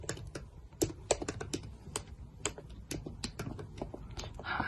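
Rapid, irregular clicking of fingers typing on a computer keyboard, close and fairly quiet, with keystrokes coming in uneven bursts and no talking.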